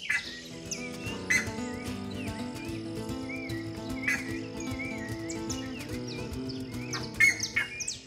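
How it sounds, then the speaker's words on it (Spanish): Birds chirp and sing on a coffee farm in Montenegro, Quindío, Colombia, with short repeated calls scattered through a steady, tonal background that may include insects. "paraíso terrenal con flores y aves en una sinfonía perfecta"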